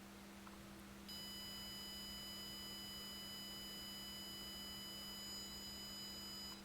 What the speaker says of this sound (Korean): 온도가 내려가면서 부저가 꺼지는 그런 영상을 확인할 수 있습니다